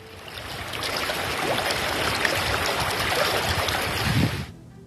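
Floodwater in Assam surges along a submerged road where boats move through it, a loud continuous rushing wash of water that cuts off abruptly near the end, with no voices.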